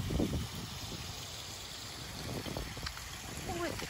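Water trickles steadily beside a grand Tulsa, Oklahoma garden with a large oak tree, a constant soft wash that continues throughout, with faint voices now and then.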